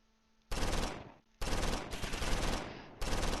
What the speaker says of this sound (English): There's nothing I can do about like the hidden machine gun team.